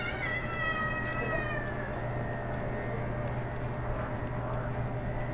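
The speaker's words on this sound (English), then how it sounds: "The cat will say meow meow." A cat meows in a few faint, drawn-out rising and falling cries early on, set against a low steady background hum.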